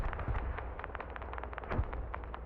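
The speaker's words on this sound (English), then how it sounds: "Like the explosions sound good." Rapid bursts of video game explosions crackle and pop in quick succession, with a couple of deeper booms, fairly faint and distant.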